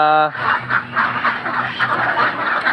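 Laying ducks crowd a duck farm, a dense chorus of quacking and chattering calls running steadily throughout, loud and close, with a brief tonal sound at the very start.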